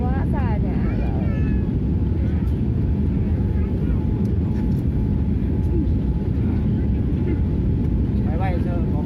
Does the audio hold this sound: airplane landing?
yes